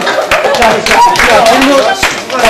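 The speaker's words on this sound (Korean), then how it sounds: "자, 일단 박수 먼저 부탁드릴게요." An audience claps together at a Korean presentation session, a dense burst of applause that fills the whole moment with scattered voices mixed in.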